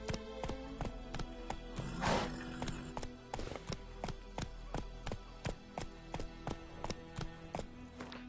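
Horse hooves clip-clop at a steady gallop in The Witcher on PS5, a regular close rhythm of hoofbeats over a low game music bed, with a brief whinny-like burst partway through.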